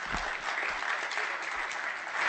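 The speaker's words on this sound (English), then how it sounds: "Big round of applause," An audience at a Clark County, Nevada public meeting applauds in a brief, steady wash of many hands clapping at once, moderately loud and with no talking.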